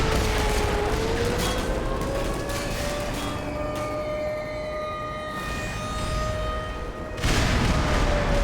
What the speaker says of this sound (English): There's an airstrike?